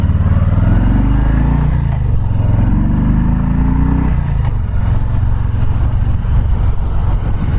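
Harley-Davidson Softail Low Rider 107 motorcycle engine, first-year model, rumbling loudly and steadily at close range, with a deep pulsing idle that rises and falls through a couple of revs before settling into a rougher, throbbing drone.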